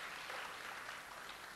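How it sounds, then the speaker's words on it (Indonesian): Applause from a church congregation during a sermon, a steady, soft wash of many hands clapping together for the whole brief stretch, fairly distant and with no voices heard. "Mari kita berikan tepuk tangan untuk Tuhan yang seperti ini."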